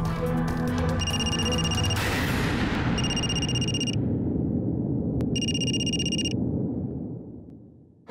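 A dialed phone's electronic ring tone sounds over speakerphone in repeated bursts, about one per second, over a loud, steady rumbling roar.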